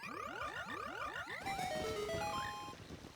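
An ocarina melody from The Legend of Zelda: Ocarina of Time is played for frogs: a run of rising, swooping chirps, then a sequence of clear sustained notes stepping up and down, moderately loud with game background.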